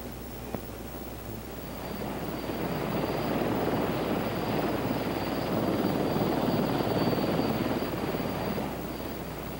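A CH-54 heavy-lift helicopter lands, its rotor and turbine roar swelling after a brief quiet start and holding as a loud, steady, throbbing wash.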